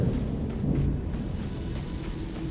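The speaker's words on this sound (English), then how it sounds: "It sounds like there's thunder in the background." Low, rolling thunder rumbles steadily through a stormy scene in the video game Avowed, with a soft wash of rain beneath it and no voices over it.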